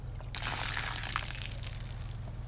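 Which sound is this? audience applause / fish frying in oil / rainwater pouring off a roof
rainwater pouring off a roof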